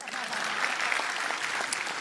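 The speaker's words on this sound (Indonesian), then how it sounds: "Boleh tepuk tangan." Sustained audience applause at a stand-up comedy show, a steady wash of many hands clapping at moderate level for about two seconds with faint crowd noise beneath.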